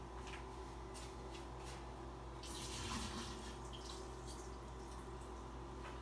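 Excess chicken juice from baked barbecue chicken legs pours into a kitchen sink, a steady low liquid splashing and trickling that runs continuously for several seconds at moderate level, swelling slightly midway, with no talk.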